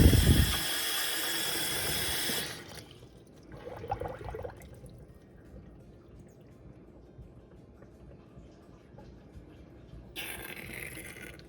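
Hissing spurts of water forced by syringe through a TWSBI ECO fountain pen, a loud burst at first, a short trickle, then another spurt at the end.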